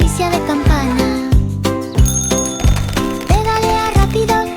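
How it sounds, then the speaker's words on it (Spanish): Bicycle bell dings in a children's song, a series of bright rhythmic rings over bouncy music, loud and up front. "El timbre hace ding, ding, ding, ding, ding, ding, ding."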